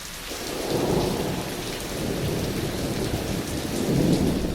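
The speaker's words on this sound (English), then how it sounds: "there's definitely a line of storms coming through" Thunderstorm rolling through north-central Minnesota on a dark, windy day: steady heavy rain and low rumbling thunder fill the whole stretch, swelling louder near the end, with no voices.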